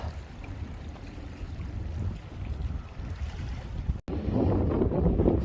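Steady wind rushes and buffets the microphone outdoors on a breakwater at Cheongho-dong, a continuous low roar that briefly cuts out and then returns stronger.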